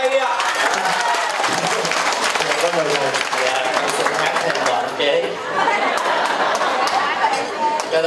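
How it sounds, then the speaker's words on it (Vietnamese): An audience at a vegetarian fundraising dinner applauds steadily, with chatter and voices mixed into the clapping throughout. "vỗ tay đi ạ"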